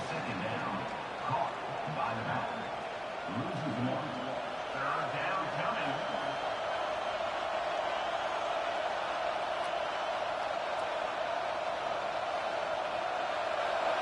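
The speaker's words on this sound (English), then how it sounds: "listen to this crowd noise. This stadium is vibrating." A loud, sustained roar of a college football stadium crowd at a Michigan versus Ohio State game, dense and continuous, with brief voices rising over it early on.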